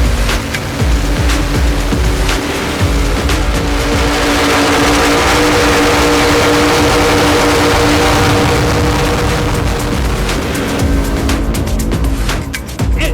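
Super Cat offshore racing powerboats roaring past side by side on lap three of a US-1 race, a loud sustained engine roar with wind and water rush filling the whole stretch, no speech.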